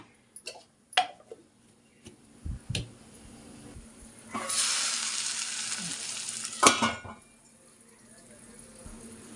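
Onions fry in a pan for prawn curry, a few stirring clicks and taps, then a loud close sizzle surges for about two seconds before fading to light crackle.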